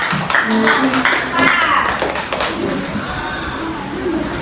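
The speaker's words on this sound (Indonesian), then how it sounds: "Beri tepuk tangan buat kelompok berapa?" Children in an elementary school classroom clap their hands together in a noisy burst, with chatter and voices mixed through the clapping.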